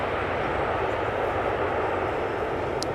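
Airliner landing at Amsterdam Schiphol with thrust reversers deployed but engines not spooled up, a steady broad roar of wind and engine noise, loud and continuous.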